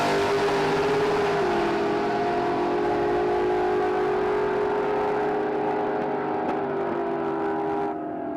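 Naturally aspirated drag racing cars, including an XE, launch and accelerate down the strip at Willowbank Raceway, Australia. A loud, sustained engine note rises steadily in pitch with crowd and track noise around it, then tails off near the end.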